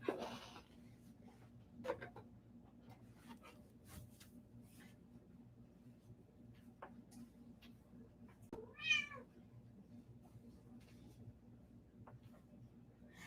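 A pet cat cries out for attention indoors, giving a brief meow early and a clearer, rising meow near the end, both moderately close over a quiet, steady room hum.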